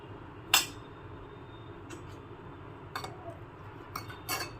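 A metal spoon stirs coriander-cumin powder and chilli into roasted aubergine, giving a few sparse, bright clinks against the pot at irregular intervals over a quiet kitchen background.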